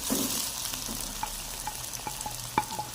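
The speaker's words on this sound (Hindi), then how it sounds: "अब 1 मिनट तक हल्का सा इसे सौते करेंगे।" Onion, tomatoes and garlic-ginger paste sauté in a pan with a steady close sizzle, punctuated by scattered clicks and scrapes of stirring against the pan, with no talking.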